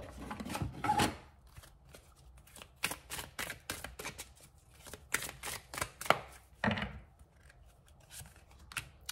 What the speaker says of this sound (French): je vais prendre 2 cartes pour terminer